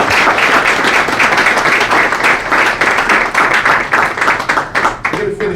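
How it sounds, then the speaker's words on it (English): Loud, close applause for panelists at a fraternity achievement week gathering, many people clapping with distinct rhythmic hand strikes audible within the crowd, continuing for over five seconds and thinning near the end. "Let's give our panelists another round of applause."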